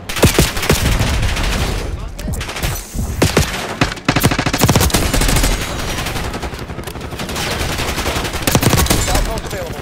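Gunfire in Call of Duty Black Ops 6, with dense overlapping automatic bursts and sharp single shots filling the whole stretch, loud and close, with voices talking in between.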